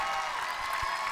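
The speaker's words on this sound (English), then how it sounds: "I'd like everybody to give a big round of applause for my lovely wife, Deanna" Applause from an audience at a mixer gathering, a steady dense patter of many hands clapping at moderate distance, filling the short moment without pause.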